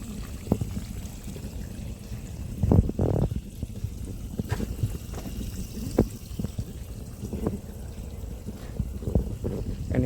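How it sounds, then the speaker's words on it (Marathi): Water pours and trickles into the base of coconut trees in a cashew and coconut orchard watered by a machine-fed irrigation system, a soft continuous flow with occasional louder splashes and gurgles. "इकडे बघू शकता नारळाच्या बुंदामध्ये सोडलेलं आहे पाणी."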